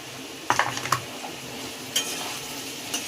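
Potatoes with turmeric and chilli powder being stirred in a pan: a few sharp spoon-on-pan clinks and scrapes over a faint low sizzle, otherwise quiet.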